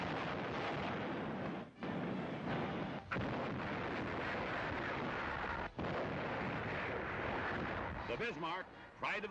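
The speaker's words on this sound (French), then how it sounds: "Les canons anglais crient vengeance." British naval guns fire at sea in a 1941 battle against the Bismarck, a dense, continuous rumble of heavy booms and blasts that rolls on for the whole stretch, with a voice speaking over it.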